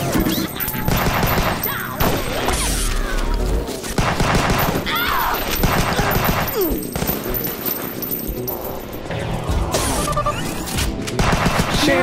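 Dense, continuous gunfire and crashing impacts from shooting in the 16-bit retro video game Hunt Down, loud and busy for the whole stretch with game music and effects layered over it.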